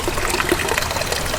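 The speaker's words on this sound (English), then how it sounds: "See, water starts coming out of here now." Water trickles and splashes steadily at close range from the valve of an emergency water filter, a continuous gurgling flow.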